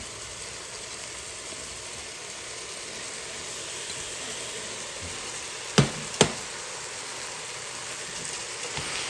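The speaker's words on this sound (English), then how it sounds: "I'm going to add my lentils that have been washed." Washed lentils go into a hot pot of lamb dhansak and a steady broadband sizzle runs throughout, close and even, with two sharp clinks of a utensil against the pot near the end and no voices.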